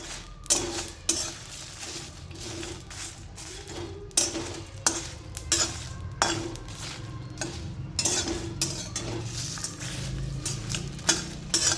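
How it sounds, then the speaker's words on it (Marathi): Dry roasting in a pan over a low flame until pinkish, ingredients for a homemade masala blend: repeated scraping stir strokes and clinks of a utensil against the pan over a soft, steady background, with no talking. "मंद आचेवर गुलाबी रंगाचे पर्यंत भाजून घ्यायचे आहे।"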